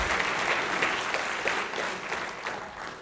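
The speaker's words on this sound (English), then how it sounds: "Keep clapping." Audience applause at a conference talk on SQL injection: a steady wash of many hands clapping in a room, dense and continuous throughout, with no voices standing out.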